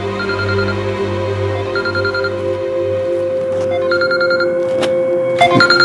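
A mobile phone ringing indoors in a home: a repeating electronic ringtone melody plays in short bursts over a low hum, fairly close and loud, with a few sharp knocks near the end.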